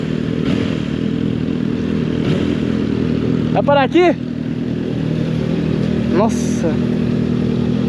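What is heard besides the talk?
Honda CBR 650R motorcycle riding and accelerating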